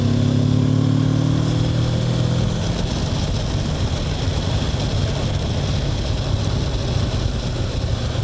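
Kawasaki Versys 650 motorcycle engine droning steadily while riding, a loud continuous roar with wind rush, the low harmonic note shifting early on as revs change, no talking.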